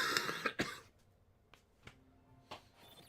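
A few short, dry coughs and throat-clearing bursts, spaced irregularly over quiet background, fairly faint.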